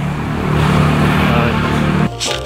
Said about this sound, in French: Ils sont fous avec leur bagnole.